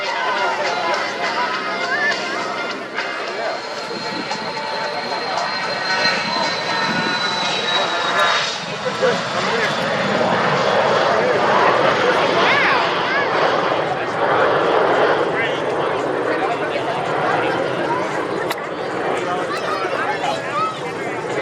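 Aircraft engines rumble steadily and grow louder as planes taxi out at an airshow, a broad droning roar that fills the scene, with voices talking faintly underneath.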